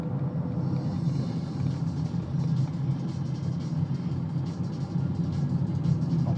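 A lorry passes on a road in the background near the Thames in London, a steady low rumble of traffic, continuous and moderately loud, with no talking over it.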